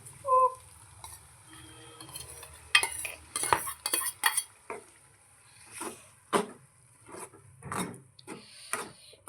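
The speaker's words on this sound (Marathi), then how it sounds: "आता हे आपण शिजवून घेतलेले मोड आहेत ते आपण ह्याच्यामध्ये ॲड करूया" Cooked matki sprouts are added to fried masala in a pan and stirred, with close metallic scraping strokes in irregular bursts and a light sizzle, no voices.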